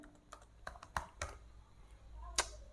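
Several quick, light key clicks tap out a short search word on a computer keyboard, close and fairly quiet, in an irregular typing rhythm with brief gaps and one sharper click near the end.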